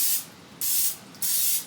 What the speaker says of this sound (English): I'm going to spray a loaf pan with the original pan